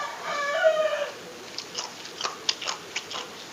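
A young chicken bone from spicy ayam rica-rica is chewed up close, giving a series of short, crisp crunches spaced irregularly after a brief tonal sound at the start.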